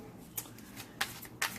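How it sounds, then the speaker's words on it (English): A large tarot deck is shuffled in short bursts, three quiet riffling flutters spread out over a second and a half against a low room hum. "I'm trying to get used to shuffling larger decks."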